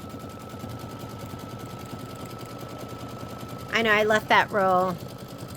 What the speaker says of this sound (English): So it's going to stitch out the decorative stitch.